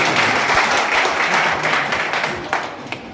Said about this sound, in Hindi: ऐसे महान मुख्यमंत्री के लिए मैं समझता हूं दिल से जोरदार तालियां।